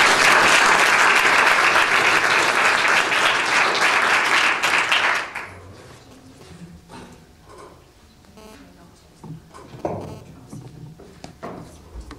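An audience at a Perth Green Drinks talk on creative activism breaks into loud, dense applause welcoming a speaker to the stage, which holds steady for about five seconds and then fades to scattered claps and room shuffling.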